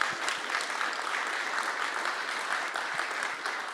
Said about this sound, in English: So a big applause for Johannes Duong.